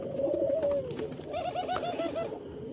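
Breeding-pair pigeons at a pigeon farm in Maslandapur, India, coo steadily in a low, throaty warble, several birds overlapping close by, with no talking.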